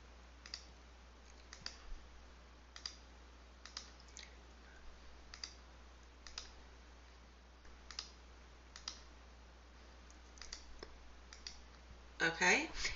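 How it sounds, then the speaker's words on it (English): A computer mouse clicks in Photoshop, quiet, evenly spaced single clicks spread across the stretch over a low steady hum, ending with a louder rustle. "I'm just going to go ahead and click on a few of these to show you what they do."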